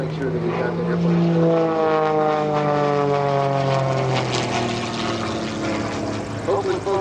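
Aerobatic propeller airplane performing at the EAA AirVenture air show, its engine drone loud and close with pitch rising and falling as it climbs and dives, a steady sustained roar throughout.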